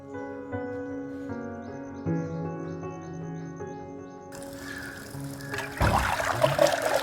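Water let out from a small pond at a forest homestay runs onto trees, with soft ringing tones and bird calls at first, then a broader rushing trickle that swells toward the end.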